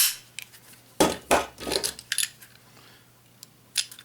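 A magazine being pulled from a Remington RM380 or S&W M&P Bodyguard .380 pocket pistol gives a few sharp metallic clicks and scrapes, close and fairly quiet, with a clear pair of clacks near the start and smaller handling taps afterward.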